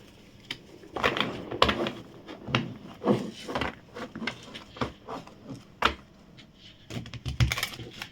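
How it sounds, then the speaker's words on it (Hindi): Tarot cards being shuffled by hand, a quiet series of soft riffling flicks and taps in irregular bursts, close and alone without talk. "जब तक मैं कार्ड शफल कर रही हूँ"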